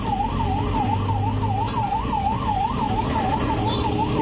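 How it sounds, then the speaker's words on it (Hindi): An ambulance siren wails in a steady up-and-down sweep, repeating evenly for several seconds over a low rumble of road traffic, close and fairly loud with no talking. "डिब्बा कलर की एकदम वो एम्बुलेंस आई।"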